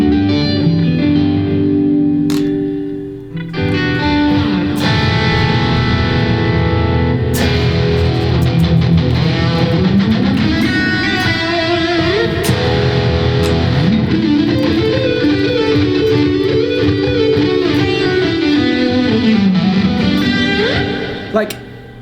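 A Kiesel Aries electric guitar played through effects, producing sustained distorted chords and a sliding melodic lead washed in reverb, echo and chorus, loud and continuous throughout with a brief dip near the start.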